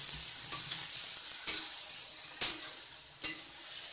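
Onions sizzle steadily in a hot oily pan for Bombay-style masala pav, with a spoon scraping and stirring through them at intervals; close and fairly loud, no voices.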